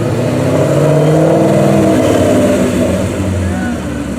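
A Ford Mustang's engine rumbles deep and close as the car pulls out of a Cars and Coffee car meet, a steady low growl that eases slightly toward the end.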